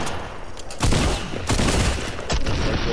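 Gunfire from the video game Fortnite crackles in dense, loud bursts, several volleys close together over a few seconds.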